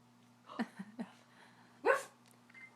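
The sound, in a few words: child imitating a dog barking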